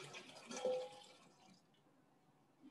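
Excess water poured off from a cooking pot of African breadfruit (ukwa), a brief soft splash and trickle that fades into quiet dripping.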